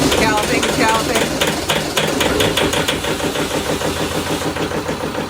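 A small Volvo marine engine on a boat in the Keys runs roughly after starting, with a loud, uneven, galloping knock that repeats throughout.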